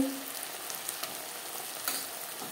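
Onion, tomato and green chilli paste fry in a pan for a chela fish curry with eggplant, giving a steady close sizzle with a few soft stirring taps and no voices.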